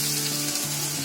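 Gravy sizzles hard over a full flame for vegetable kurma, giving a loud, steady, crackling fry close up with no voices.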